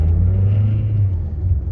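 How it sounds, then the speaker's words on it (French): A 2016 Mazda CX-5 Skyactiv accelerates in sport mode, its engine giving a loud, close, steady low rumble from inside the cabin for a brief moment. "Là, je l'ai passé en mode sport et j'accélère."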